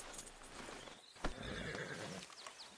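A horse in the Red Dead Redemption 2 video game gives a loud, clear whinny around the middle of the clip, with clip-clop hooves and ambient game sound throughout.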